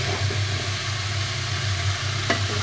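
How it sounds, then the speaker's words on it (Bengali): Cauliflower sizzles steadily in hot oil in a pan while being stir-fried for a Bengali curry, a close, continuous frying hiss with a brief scrape of stirring near the end. "ফুলকপিটা ভালোভাবে কষিয়ে নিলাম, হালকা ভেজে নেওয়ার মতোই।"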